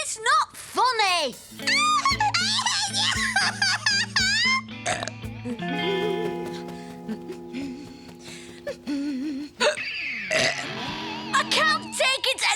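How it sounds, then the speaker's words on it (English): A cartoon boy hiccups in a series of sharp, voiced gulps amid lively animated dialogue, with other characters talking and reacting around him. "I've got to stop these hiccups!"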